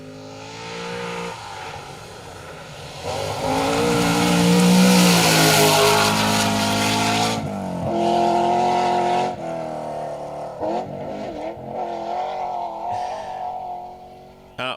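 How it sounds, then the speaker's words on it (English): Triumph TR7 V8 historic two-wheel-drive rally car, prepared by David Appleby Motorsport, driven hard on a forest rally stage: loud rising V8 roar through the gears, a brief lift, then further revving bursts, close and alone. "Mark Higgins, Carl Williamson in that incredible TR7 V8 prepared and run by David Appleby Motorsport"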